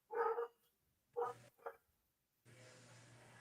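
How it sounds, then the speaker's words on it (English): A female dog with a big, deep bark barks three times at close range, with short gaps between the barks, then a low steady hum follows. "She's got a big old bark."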